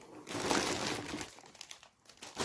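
Plastic snack bags from a carton of Lolo Puffs crinkle loudly up close as they are pulled out, a dense rustle that fades into sparser crackles.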